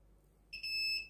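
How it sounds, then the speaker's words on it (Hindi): A Huawei mobile phone speaker under test gives a sharp, high electronic beep that starts abruptly and holds steady, loud and close with no talking over it. "बीप की आवाज़ आ रही है इसका मतलब स्पीकर ठीक है"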